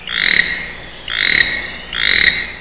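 A toad croaks three times in a steady rhythm, each call a loud, close, buzzy trill lasting a fraction of a second, separated by short pauses.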